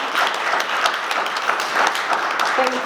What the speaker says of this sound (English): can we actually just give her a quick round of applause?